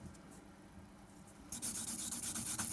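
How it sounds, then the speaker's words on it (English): Sponge buffer buffing over a gel nail: quiet at first, then from about halfway a rapid series of close scratchy rubbing strokes in a steady back-and-forth rhythm. "I'm just going to buff over the nail"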